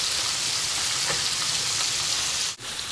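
Bacon sizzling and frying in a pan, a steady dense crackle heard close up, with a brief dip near the end and no talking.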